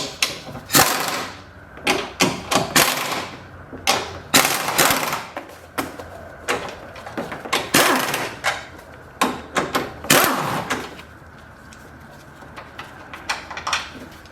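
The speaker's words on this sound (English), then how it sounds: "we're going to take our 14mm socket and we're going to loosen up these 3 bolts right here" A 14mm socket ratchets and clicks as bolts are loosened in a car engine bay, in repeated short bursts of sharp metallic clatter separated by brief pauses.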